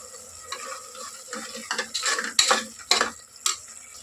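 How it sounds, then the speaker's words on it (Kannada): Tomato paste frying with green chillies in a pan, a light sizzle broken by several sharp scraping and stirring strokes of a spoon in irregular bursts, close and moderately loud, without speech. "ಇದು ಸ್ವಲ್ಪ ಒಂದು 2-3 ನಿಮಿಷ ಫ್ರೈ ಆಗಲಿ ಟೊಮೊಟೊ ಎಲ್ಲ."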